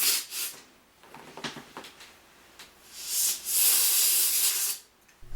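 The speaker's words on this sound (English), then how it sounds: "Afterward, we can blow it off with some compressed air." Compressed air blasts dust off the laser of a 3-disc CD changer, loud hissing bursts in short puffs and then a longer spray, with faint handling clicks in between.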